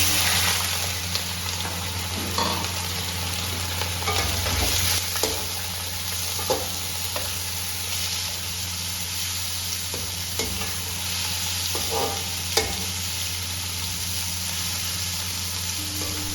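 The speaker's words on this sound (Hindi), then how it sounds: "चूल्हे पर कढ़ाई चढ़ाकर ऑयल डाल दें। गरम होने पर चिकन शामिल करके अच्छी तरह भून लें।" Chicken frying in very hot oil in a wok, a loud, continuous close sizzle with occasional stirring clinks and spatters over a steady hum, with no talking.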